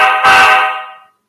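A short horn blast from a Soundtraxx Tsunami-2 sound decoder in an Athearn Genesis Union Pacific EMD SD70 model locomotive, a single loud, steady chord that holds about a second before cutting off.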